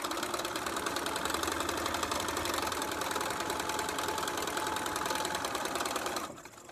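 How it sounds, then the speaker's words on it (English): A sewing machine runs steadily along a fabric seam line, with a fast even stitching hum up close that stops near the end. "And then I sew into the seam line, make sure this is lined up,"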